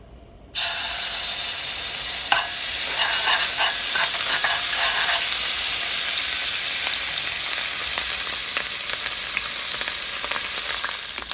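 Homemade sofrito hits hot olive oil in a pan for Cuban chicken ripiado, bursting into a sudden loud sizzle that settles into a steady, close hiss with a few light stirring clicks.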